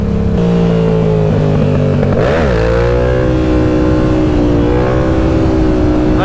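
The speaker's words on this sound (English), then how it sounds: "At first, I didn't think I'd like the sound of this bike" A Yamaha R7 motorcycle engine revs loud and close, holding a steady drone with one quick throttle blip and rising pitch partway through, no talk.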